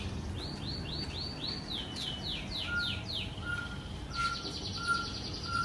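Pet birds chirp on a rooftop fruit garden in a quick series of rising tweets, then a few repeated shorter calls, set against steady low background noise.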